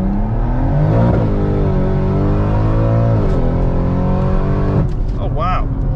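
A BMW M140i fitted with a big turbo launches hard, its engine note climbing steadily and loudly from inside the car, then dipping briefly as it shifts before pulling on again.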